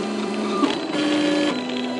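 A Portabee 3D printer laying down the wall of a part, its stepper motors whining in steady tonal pitches that shift as the head changes direction, close and continuous, no talk.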